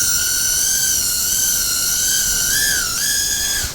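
A Cheerson CX-10W nano quadcopter spins up for takeoff with a loud, piercing high whine from its tiny motors. The tone holds steady, then wavers and dips briefly near the end as the drone lifts.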